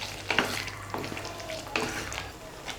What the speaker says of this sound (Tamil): சேர்த்து இந்த மசாலாவோட நல்லா மிக்ஸ் பண்ணி விட்டுறலாம்.